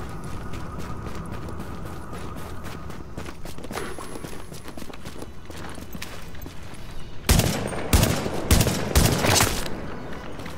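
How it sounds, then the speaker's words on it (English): Video game gunfire breaks out over steady background noise as a cluster of sharp, loud shots, several in quick succession near the end. "It's a random gunshot hit the wall next to me there."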